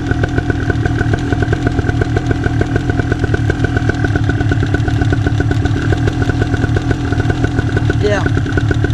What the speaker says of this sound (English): it's going to want to idle just a little more higher than that